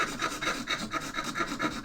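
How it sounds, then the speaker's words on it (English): Steady rhythmic rasping of a hand file scraping back and forth on a hard piece of mother of pearl for a guitar fretboard inlay, close and fairly quiet, about a dozen strokes. "Then there was lots of filing"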